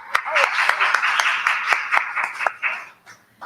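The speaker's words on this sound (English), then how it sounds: "can we applaud that?" Audience applause from a spiritual-living center congregation, a dense patter of clapping hands filling the room for a few seconds, with a few sharper claps standing out before it thins and fades.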